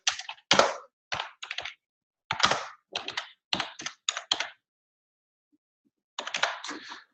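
Bursts of close computer keyboard typing, quick clattering keystrokes in short clusters separated by pauses, with one longer silent gap before a final burst.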